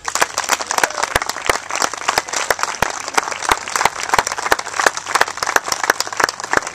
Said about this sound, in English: Please give a round of applause for the Honorable Ed Peck and his wife